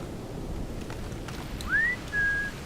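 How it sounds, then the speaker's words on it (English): In the original Splinter Cell video game, the player character gives a two-part whistle, a rising note followed by a short steady one, clear over a constant low game ambience. "I can whistle."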